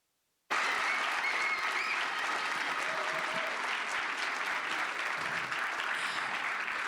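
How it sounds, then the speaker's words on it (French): Enthusiastic audience applause follows a handmade cosplay contest performance at Japan Impact, bursting in suddenly after a brief silence and holding at a steady, dense level to the end. "On peut les applaudir bien fort,"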